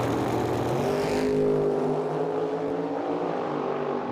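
Dragster engine at a drag racing event in Medicine Hat, Alberta, a loud roaring pass that swells and then fades as the car pulls away, heard steadily at a distance.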